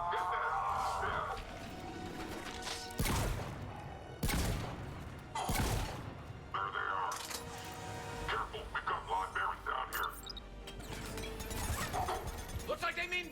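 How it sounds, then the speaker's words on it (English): Shotgun blasts in the video game Mass Effect 3, several loud booming shots spread across the stretch amid game combat noise, with voices talking between them. "Let's see how the shotgun feels."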